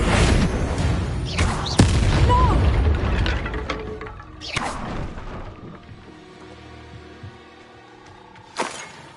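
Bombarda spell blasts in Hogwarts Legacy, two heavy booming explosions with debris and crackling tails in the first half, fading into a quieter mechanical, tonal game ambience, then one more sharp burst near the end.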